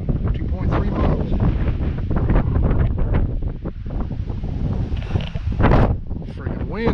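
Strong gusts buffet the microphone on a mountain hike at Peaks of Otter, a loud, continuous roar with flapping bursts that swells sharply near the end.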